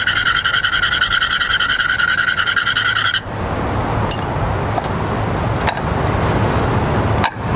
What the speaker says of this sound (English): So I'm going to run the conditioning stone back and forth on it.